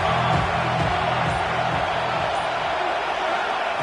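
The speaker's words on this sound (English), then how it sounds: "The crowd is roaring, trying to help this defense on fourth down." Broad, steady roar of a stadium crowd in an American football video game during a fourth-down defensive stand, a continuous loud wash of massed voices with no break across the whole stretch.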